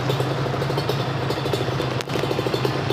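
A Kawasaki Ninja SS two-stroke motorcycle engine idles warm and close, a steady rattling low putter with a fast even pulse and a brief dip midway.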